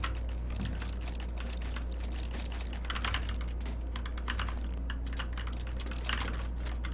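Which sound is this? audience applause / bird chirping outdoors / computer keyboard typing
computer keyboard typing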